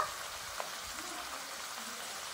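Ground spices frying and being stirred in hot goat fat with banana stem, a steady close sizzle with a faint scrape or two.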